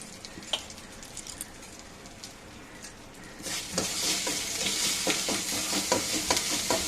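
A pan of spices being stirred: cumin powder, chilli, sugar and salt. The first half is quiet with occasional light scrapes, then sizzling and a steady run of stirring scrapes set in, continuing close and moderately loud with no talk.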